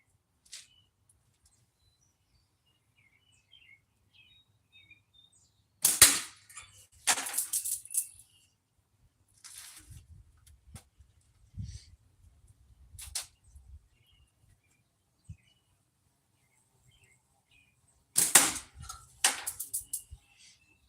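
Slingshot shots fired at a pop can during a live outdoor shooting session: sharp snapping releases and impacts arrive in short clustered bursts around 6–8 s and again near 18–20 s, with quieter scattered ticks and thumps between and otherwise near silence.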